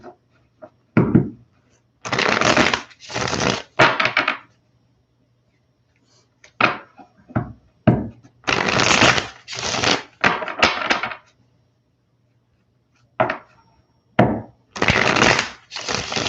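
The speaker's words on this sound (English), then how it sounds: "Let's do one more good shuffle" Tarot cards are shuffled in repeated quick riffling bursts, each lasting a second or two, with short silent pauses between them.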